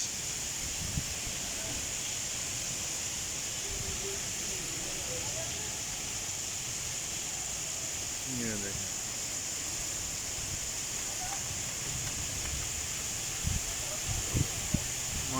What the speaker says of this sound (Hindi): माशाल्लाह बहुत तेज़ बारिश लगी हुई है।